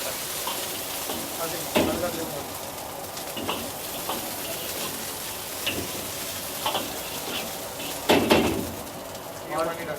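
Ginger and garlic fry in oil in a restaurant-style chilli chicken kitchen, a steady sizzle with occasional clanks of utensils, under indistinct voices.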